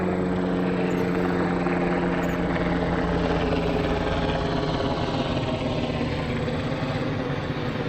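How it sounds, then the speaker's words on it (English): Military helicopter flying overhead outdoors, a continuous loud rotor and engine drone with steady throbbing, holding level throughout. "we have a military helicopter coming over right there"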